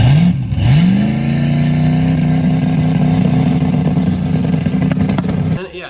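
A turbocharged car engine held on the brake, revving up steadily and building boost. The loud, sustained rising drone holds for about five seconds before cutting off abruptly.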